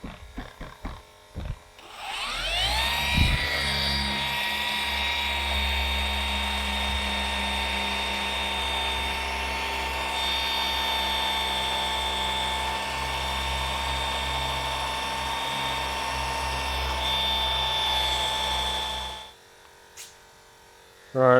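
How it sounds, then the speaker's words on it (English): An electric air pump sold for Tesla cars starts up and runs with a loud, steady mechanical whine and buzzing drone for about seventeen seconds, then shuts off abruptly. "we sell these air pumps as well"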